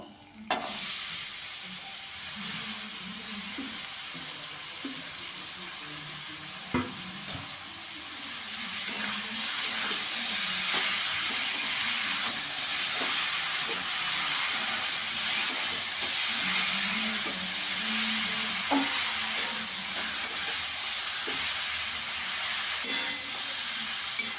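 Kohlrabi sizzles and fries with prawns in a pan for a Bengali chingri oll kopi ghonto, a steady loud hiss with occasional scrapes and knocks of stirring throughout, no voices.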